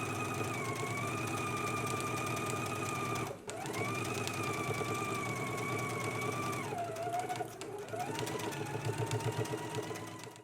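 Home sewing machine running steadily as it stitches a 5/8-inch seam attaching the lower band to a jacket's lower edge, a dense mechanical whir with two brief pauses and speed changes, close and loud with no talking.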